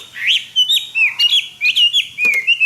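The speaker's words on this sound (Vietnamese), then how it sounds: "Một em họa mi rũ trường thuần, hót giọng rừng tuyệt vời." A pure-bred Chinese hwamei songbird with a wild-forest voice sings a close, loud run of varied whistled phrases, rising and falling notes in quick bursts with sharp chirps between them, with no talk over it.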